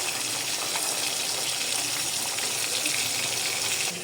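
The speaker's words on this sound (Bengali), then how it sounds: "এই যে আমি মাছগুলো এখন ভাজতে দিয়ে দিলাম" Rohu fish pieces sizzle as they fry in hot oil in a pan, a close, loud, continuous hiss like rushing water that carries on without a break.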